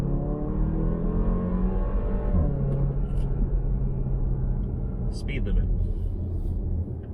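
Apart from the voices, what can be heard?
Porsche Macan four-cylinder engine while driving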